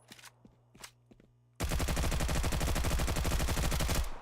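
Weapon hip-fire in the Stalcraft shooter: after a few quiet footstep-like taps, a loud, rapid automatic burst of gunshots erupts and runs steadily for over two seconds before cutting off.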